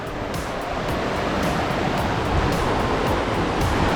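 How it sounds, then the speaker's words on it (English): The White River on Mount Hood rushes in a loud, continuous broadband roar of fast water, close by and steady throughout, with no voices. "This is the White River."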